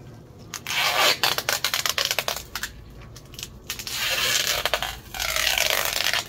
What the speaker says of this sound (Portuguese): agora eu vou apertar essa terra aqui, ó